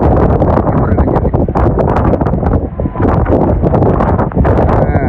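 Strong cyclone wind blasts along the coast at Rameswaram, a loud, continuous roar that buffets the microphone, with only brief dips in its force.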